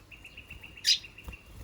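Small nectar-feeding pet birds chirp in a steady series of thin, high tweets, with one brighter, louder call partway through; no talking.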